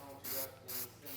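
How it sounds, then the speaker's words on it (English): A spray can lays a light coat of paint on dirt bike parts, two short hissing bursts in quick succession, fairly quiet and close. "Super light coat here. This is just to get a little paint on it to help with that adhesion."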